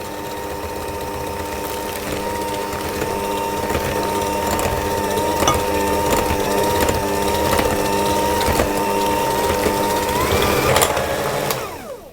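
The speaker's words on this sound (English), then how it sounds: "I'm going to whisk all the time as I'm adding the eggs until it's all fully combined" Beaten eggs are whisked into butter and sugar for a sponge batter, giving a steady, loud, close motorized whir with faint rattling. It runs without a break for about eleven seconds before stopping abruptly, and no one speaks.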